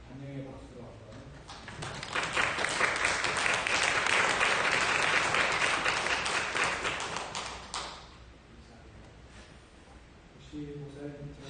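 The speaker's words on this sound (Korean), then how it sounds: "우리 환영의 박수로 한번." A church congregation claps to welcome newcomers at a Sunday service, applause swelling to a loud, dense peak and tapering away after about eight seconds, with speech before and after it.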